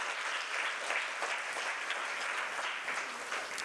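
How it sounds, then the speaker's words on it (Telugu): A church congregation claps together in praise during a Telugu worship service, a dense, steady wash of many hands that holds at full strength from start to finish with no voices rising above it. "చప్పట్లు కొట్టి ఒకసారి దేవుని స్తుతించు"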